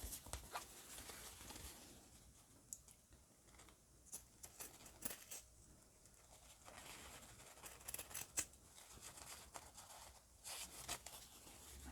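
Scissors snip through paper to cut a junk journal cover, making a series of soft, quiet, close crisp cuts with short pauses between them and no talking.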